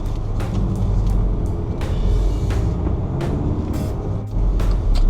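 A 2015 VW Jetta 2.0 TDI diesel with a six-speed manual pulls away in gear, giving a steady, close low engine rumble inside the cabin with a few faint clicks and no talking.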